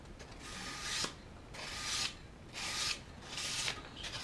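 Razor blade being sanded on 320 grit sandpaper: four rhythmic back-and-forth rasping strokes about one second apart, quiet and close, with no talk.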